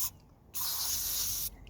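Holts EGR and carb cleaner sprayed from an aerosol can onto a BMW 320d E90 N47 MAP sensor, one steady close hiss of about a second with brief softer bursts before and after.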